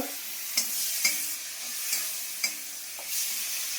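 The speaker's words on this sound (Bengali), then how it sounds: "এবার পেঁয়াজটাকে ভালো করে ভাজি করে নিই" Chopped onions fry in a pan for a prawn and potato curry, with a steady hiss broken by four or five sharp spatula scrapes at uneven intervals.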